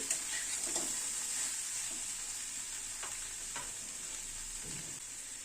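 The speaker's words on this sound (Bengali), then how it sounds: "ডিমটাকে ভালো করে একটু ফুলকপির সাথে মিশিয়ে দিচ্ছি" Egg being stirred into cauliflower curry in a hot pan, with a steady sizzle of frying and intermittent scraping of a spatula against the pan, close and fairly loud, no talking.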